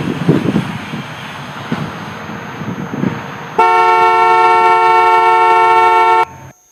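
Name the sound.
vehicle warning alert for a car passing too close to a bicycle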